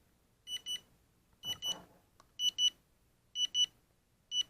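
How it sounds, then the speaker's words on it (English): A HOBBYMATE Elite balance charger sounds its end-of-charge alarm on the loudest setting: paired high-pitched electronic beeps repeating at a steady rhythm, close and clear over a quiet background. "Alright, so you see it's beeping here, it says end."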